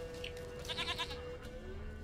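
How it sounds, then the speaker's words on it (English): Goat bleating in The Witcher 3 during a search for a stubborn horned goat, a single quiet wavering bleat with a shaky, nasal pulse over soft game ambience. "Here, goat."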